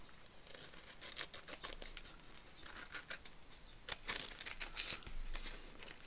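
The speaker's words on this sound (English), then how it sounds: "Yeah, here's these larger scissors. Let's get going with them." Large scissors snipping through paper while a card journal page is made, giving a run of sharp, close, crisp cuts and rustles in irregular bursts, with no talk.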